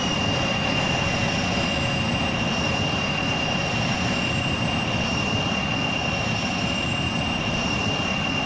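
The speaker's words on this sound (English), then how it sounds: "We fly with a Boeing 737 of American towards Apeldoorn" American Boeing 737 in the Trainz game, flying over a model railway world toward Apeldoorn, with a steady, unbroken jet engine roar that stays loud and even throughout.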